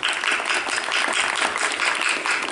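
Audience applause at a village flag-hoisting ceremony in Badarpura, a steady, dense wash of many hands clapping throughout without a break, fairly loud and fairly close, with no voices standing out.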